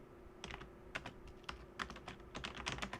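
Steady typing on a computer keyboard while entering an EIGRP router command during CCNA networking training, a quick run of uneven key taps, close and soft, with no voices.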